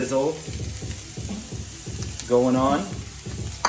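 Onions and garlic sizzle in a tablespoon of hot olive oil in a pan, a steady close crackle with someone talking over it throughout.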